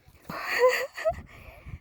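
A dog on a mountain hiking trail gives a short whimpering, yippy vocalization up close, a brief cluster of sounds with quiet gaps and soft rustling after it.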